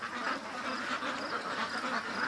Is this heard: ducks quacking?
yes